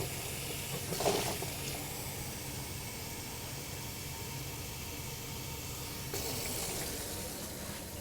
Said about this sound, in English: now we're going to add several cups